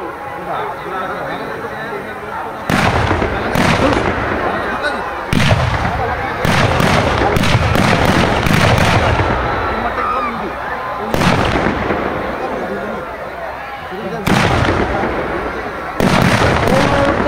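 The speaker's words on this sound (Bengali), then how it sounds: "চলছে আমাদের আতশবাজি প্রদর্শন।" Eco-friendly green fireworks at a fair's closing display, sharp loud bursts and crackling volleys in irregular clusters over an open ground, with crowd chatter and voices underneath.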